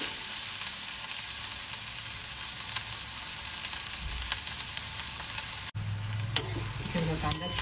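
Finely chopped onions fry and sizzle in a pan as they are browned, with steady crackling and occasional scraping stirs, close and continuous with no talk.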